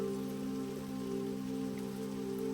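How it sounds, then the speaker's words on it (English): Heavy rain pours steadily onto thick palace walls and the ground, a constant, even wash of falling water with no break and no voices. "the sound of heavy rain pouring down over the thick palace walls and upon the ground"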